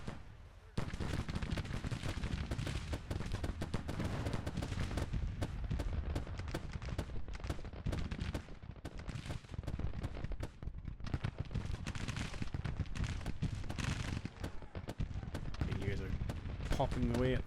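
Dense, continuous volleys of musket fire and booming artillery in a Grand Tactician American Civil War battle, crackling without pause and loud throughout, with a voice speaking over the din.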